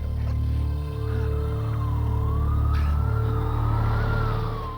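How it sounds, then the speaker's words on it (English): Police sirens wail with a rising and falling tone, growing steadily louder as they approach over a low rumbling background with faint traffic noise. "Then he hears police sirens coming, getting closer."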